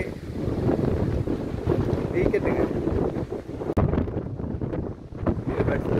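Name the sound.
strong wind blowing at cricket ground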